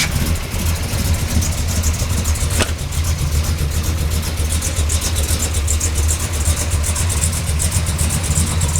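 A truck's 468 cubic inch V8 runs at a steady, rumbling idle, loud and close. The deep, even engine drone continues throughout, with one short sharp click early on.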